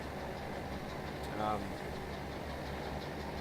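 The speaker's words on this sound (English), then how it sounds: "at the moment this is our yard tractor" Yard tractor engine idling in Farming Simulator 17, a steady low mechanical drone running continuously at moderate level beneath someone talking.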